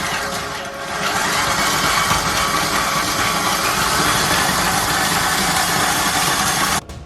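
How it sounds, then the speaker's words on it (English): An electric mixer beats butter on high speed for snowball cookies, making a loud, continuous whirring roar that holds steady for several seconds and then cuts off abruptly near the end. "we're going to want to go ahead and beat that on high speed so we can get it nice and creamy"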